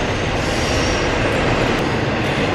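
Train rolling past at close range near a bridge, a loud steady roar of wheels on rails with faint clattering and squeal filling the whole stretch, no voices.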